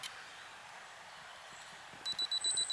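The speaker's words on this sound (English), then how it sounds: "Oh, the timer." A camera timer alarm starts beeping near the end, a run of short, evenly spaced electronic beeps over quiet room tone, close and clear, with no speech.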